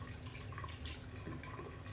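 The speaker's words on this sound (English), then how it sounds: "And after that, wash your hands." Water runs and drips steadily from a tap while hands are washed at a sink, a close, continuous splashing for a couple of seconds with no talking.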